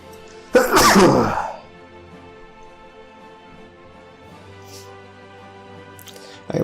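A single loud, close sneeze bursts out near the start, followed by quiet room tone and a faint brief noise at the end; no talking.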